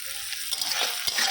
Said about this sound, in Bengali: এটা ভাজা ভাজা হবে